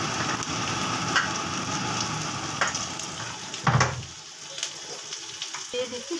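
Fish paste with chopped ginger and turmeric fries in a pan with a dense, crackling sizzle, broken by a few sharp stirring clacks and a brief lull near the end.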